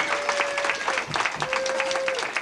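An audience at a Diwali programme in a Shree Krishna Mandir temple in Leamington Spa claps in a steady burst of applause, with a sustained tone sounding under the clapping.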